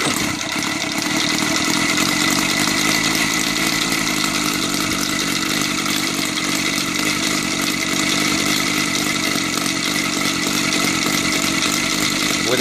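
A motorcycle engine converted to gasoline with a CH CDI ignition runs continuously at a steady idle, loud and close, with a constant buzzing drone and no pauses.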